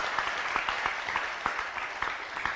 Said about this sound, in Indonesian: Tepuk tangan dulu buat Anda.